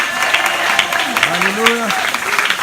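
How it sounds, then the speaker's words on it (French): A church congregation claps and applauds for the Lord, giving a loud, dense, continuous wash of hand claps throughout, with voices calling out and speaking over it. "Come on, clap your hands"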